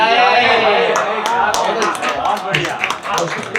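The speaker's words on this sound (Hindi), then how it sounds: "जोरदार तालियां दोस्तों।" Applause from an audience at a Hindi-Urdu poetry recital in Ahmedabad, a dense steady patter of clapping that runs the whole moment and swells into sharper individual claps near the end, mixed with crowd voices.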